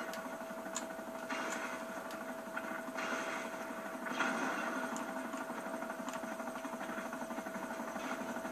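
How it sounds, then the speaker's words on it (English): A helicopter engine from GTA V Online drones steadily as a continuous mid-pitched whine and rotor hum, with a few faint clicks and no talking. "Let's go outflank the other chopper."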